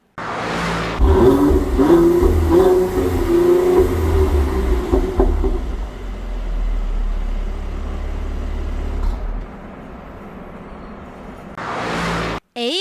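A Mercedes-AMG GLC43 exhaust revs and rumbles loudly up close for several seconds, then settles into a steady idle before cutting out.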